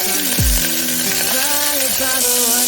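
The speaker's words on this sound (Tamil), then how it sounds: "ரெண்டுமே வந்து நல்லா வதங்கி வரட்டும்" Cumin, ginger and tomato sautéing in a pan, a loud, steady sizzle that carries on throughout, with faint tonal background sounds running underneath.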